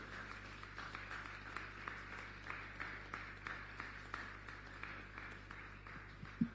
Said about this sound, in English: can we have one last round of applause for our wonderful panelists?